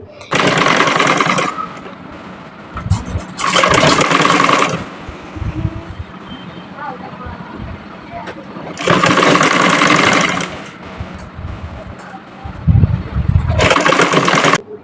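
Sewing machine stitching a sleeve onto a baby frock, loud close bursts of rapid whirring a few seconds long, separated by quieter pauses with soft handling sounds.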